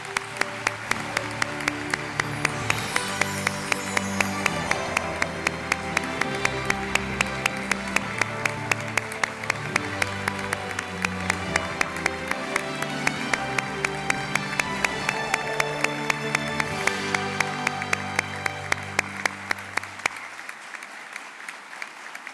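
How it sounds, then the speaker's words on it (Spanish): Sustained applause from a large audience at an education awards ceremony, dense steady clapping that runs for about twenty seconds before cutting off. "el más justo de los aplausos."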